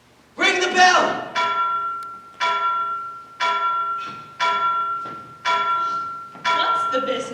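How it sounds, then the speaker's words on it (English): A bell on the stage of a school Macbeth production is struck seven times in a slow, even rhythm, each clear ringing tone fading before the next, with a voice heard at the start. "Ring the bell!"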